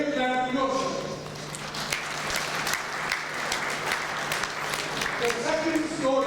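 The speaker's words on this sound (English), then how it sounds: "So a big clap to yourself." Clapping from diners at an annual charity dinner in London fills the room as a steady wash of hands, with a voice speaking over it at the start and again at the end.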